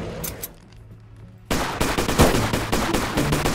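Heavy gunfire erupts suddenly in the game Bigfoot after a quiet opening, a loud, close, dense volley of rapid shots that keeps going to the end.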